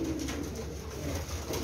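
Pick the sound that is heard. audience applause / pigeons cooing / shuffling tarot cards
pigeons cooing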